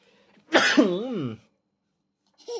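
A single short sneeze-like burst, a sharp onset followed by a wavering voiced tail, close and fairly loud, then near silence with a faint voice starting at the end.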